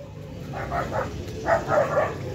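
A dog barks a few times at moderate distance, short yips in two small bursts over faint background noise.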